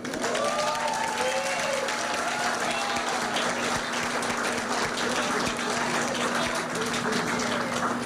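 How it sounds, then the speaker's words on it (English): Dense, sustained applause from a crowd at a victory speech after Hawaii's Democratic lieutenant governor race, steady and fairly loud throughout, with a voice speaking over it at moments. "Round of applause for them."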